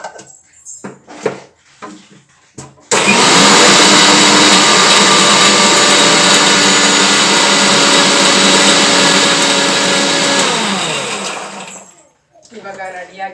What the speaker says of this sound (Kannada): ಇಷ್ಟು ಹಾಕ್ಕೊಂಡು ಮತ್ತೆ ನಾನು ಗ್ರೈಂಡ್ ಮಾಡ್ಕೊತೀನಿ.